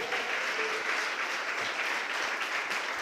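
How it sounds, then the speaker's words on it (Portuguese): A church congregation applauding steadily and fairly loudly together, dense continuous clapping filling the whole moment with no talk over it. "Vocês podem aplaudir o nome do Senhor."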